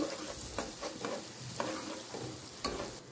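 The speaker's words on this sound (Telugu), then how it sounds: "ఆనియన్ పచ్చిమిర్చి వేయాలి, వేసి ఫ్రై చేసుకోవాలి" Onion and green chilies fry in a pan for a country-chicken curry, a steady sizzle broken by repeated scraping stirs of a spoon, close and alone.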